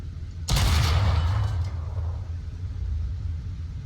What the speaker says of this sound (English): we fire the 37, then we switch over and fire that 75